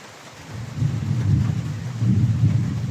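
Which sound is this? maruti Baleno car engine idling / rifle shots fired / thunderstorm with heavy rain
thunderstorm with heavy rain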